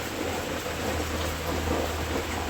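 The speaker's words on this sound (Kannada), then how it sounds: "ನೋಡಿ ಏನು ಮಳೆ, ಫುಲ್ಲು ಮಳೆ" Heavy rain pours steadily close by, a dense unbroken wash of noise with a faint low rumble underneath and no voices.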